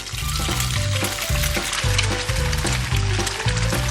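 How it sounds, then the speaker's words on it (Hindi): Breaded fish nuggets frying in oil in a frying pan, a dense continuous sizzle with crackling spatter, joined by a low rhythmic thumping pattern that sounds like background music throughout. "अब फ्राइंग पैन में तेल डाला और अब इसे फ्राई करेंगे।"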